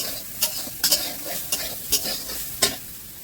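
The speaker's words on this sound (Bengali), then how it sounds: "এরপরে সয়াবিনটা দিয়ে দিবে, এখন কিছুক্ষণ নেড়ে নেবে।" Soybean chunks stirred in hot oil in a pan, a soft background sizzle punctuated by about six sharp spatula clinks and scrapes at uneven intervals, close, no talk.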